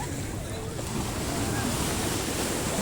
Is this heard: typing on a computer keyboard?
no